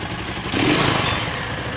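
A Yamaha Lexam scooter engine revs up briefly after a carburetor service, a close mid-pitched motor note swelling then settling, short and fairly loud.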